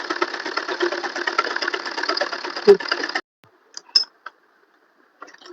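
A sewing machine runs steadily while stitching the hem of a salwar, a dense continuous whir for about three seconds that stops abruptly, followed by a few faint clicks and handling sounds.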